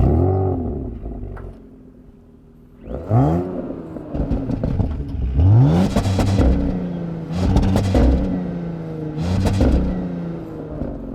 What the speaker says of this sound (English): Switch it on, Scotty, give it a rev in dynamic.